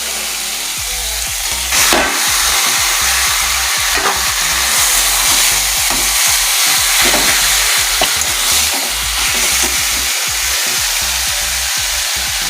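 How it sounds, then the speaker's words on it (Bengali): Leafy greens hit a hot frying pan and sizzle loudly and steadily, with rhythmic scraping and stirring strokes throughout, close up and without speech. "তার শাকটা এখন দিয়ে দিচ্ছি।"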